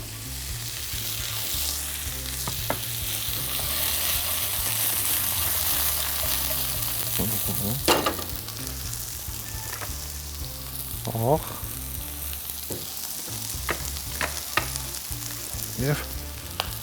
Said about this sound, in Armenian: Այս փուլում արդեն կավելացնենք կտրատված շամպինյոնները հենց նույն թավայի